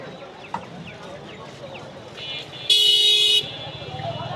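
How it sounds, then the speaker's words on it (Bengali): Caged chickens cluck throughout a busy rural poultry market in Bangladesh, with a crowd talking around them and a sharp vehicle horn blaring briefly near the end. "এপাশে পুরোটা কিন্তু মুরগির বাজার, অসংখ্য মুরগি দেখতে পাচ্ছি।"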